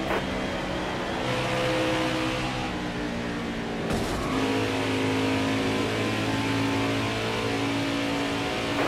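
Stock car engines roar in a racing video game at Michigan, a sustained mid-pitched drone of several cars with shifting tones and a brief dip midway, steady and loud throughout.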